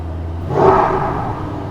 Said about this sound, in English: I want you guys to hear a little bit of the exhaust as well.